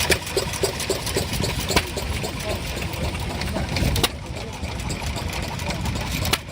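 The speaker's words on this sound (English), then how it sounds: "Might as well look at stationary engines first." Old stationary engines running at a steam rally, a steady mechanical chugging with rhythmic knocks in the first seconds under a busy outdoor mix of voices and crowd noise.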